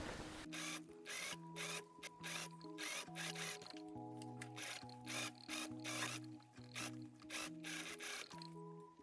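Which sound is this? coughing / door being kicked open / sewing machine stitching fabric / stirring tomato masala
sewing machine stitching fabric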